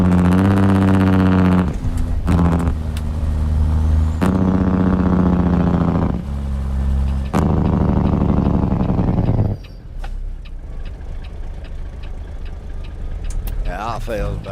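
A Big Cam Cummins diesel engine mod in a trucking game, on a Peterbilt 389, roars loudly in long sustained revving pulls with gear-shift breaks, then drops to a quieter idling rumble with clicks near the end.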